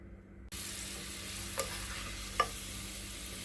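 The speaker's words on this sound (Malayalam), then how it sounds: "നമുക്ക് ഇനി ഈ മിച്ചമുള്ള എണ്ണയിലേക്ക് കിസ്മിസ് കൂടി നമുക്ക് ഫ്രൈ ചെയ്തെടുക്കാം" Raisins fry in leftover oil for chicken biryani, a quiet, steady sizzle that begins abruptly after a moment of silence, with two soft stirring clinks.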